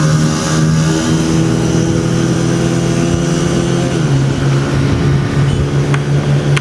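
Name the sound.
Honda CG 125 motorcycle engine revving on a test ride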